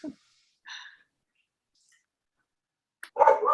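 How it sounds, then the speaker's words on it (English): A few short, faint dog barks and snorts come in isolated bursts, separated by silence, with a louder bark at the end. "And the dogs are wanting to get involved"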